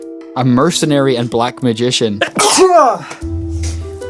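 A man sneezes once, sharp and close, right after a stretch of talking, with a low background hum continuing afterward.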